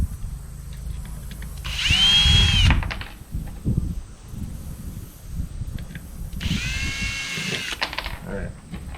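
A power drill drives non-self-tapping screws while building a shed shelf. It gives two whining bursts, each about a second long and close and loud, with someone talking between them.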